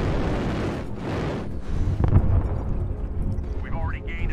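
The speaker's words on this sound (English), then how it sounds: "Artillery strike online." An artillery strike lands in MechWarrior Online, a giant-robot combat game: a rolling series of deep booming explosions under continuous battle noise and radio-like talk.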